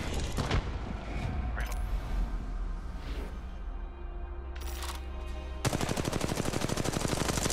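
Rapid gunfire in the mobile shooter Apex Legends Mobile, loud bursts of automatic shots close up, with a sharper, denser volley of rapid cracks in the final two seconds.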